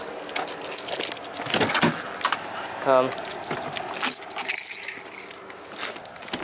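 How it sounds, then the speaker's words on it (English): Keys to a 1992 Ford Tempo GL jangle in several bright metallic bursts as they are grabbed, mixed with handling and rustling noises close by. "I should probably grab the keys so they don't get lost"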